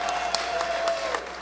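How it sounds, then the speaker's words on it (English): An audience claps and cheers at a live show in a bar, a brief steady patter of applause with scattered whoops, moderately distant. "A big round of applause for Mick Cronin"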